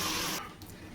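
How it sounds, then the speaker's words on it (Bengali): Water poured from a tap into a pan of home-style chicken chana curry, a steady rushing gush for a short moment that then cuts off, leaving quieter residual splashing. "এবার আমি পরিমাণ মতো জল দিয়ে দেবো"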